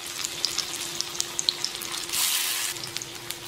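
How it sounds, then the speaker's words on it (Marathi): Alu vadi, rolled colocasia leaf slices, fry in an iron tawa over a low gas flame, giving a steady close sizzle with scattered small crackles and pops. "अशा लोखंडी तव्यात ना वड्या तळून बघा, छान तळल्या जात्यात"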